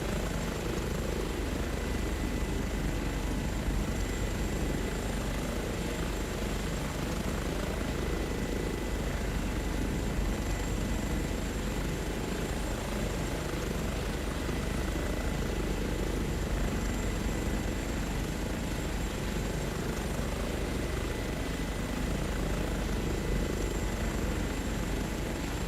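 Simulated Airbus H145 helicopter in flight, a constant, dense engine and rotor drone with a steady broadband roar that holds unchanged throughout, no talking.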